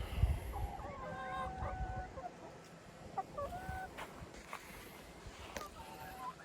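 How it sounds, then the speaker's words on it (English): Chickens in a coop give soft, scattered clucks and short calls at a moderate distance over a steady low background rumble, with no clear pecking sounds. "Some chickens are eating, some chickens are sleeping."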